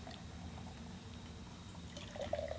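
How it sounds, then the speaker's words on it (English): Hard pour of Moosehead Lager beer into a glass, a steady low liquid rush with a brief brighter fizzing splash near the end, close and moderately loud. "I'm going to actually do your hard pour today."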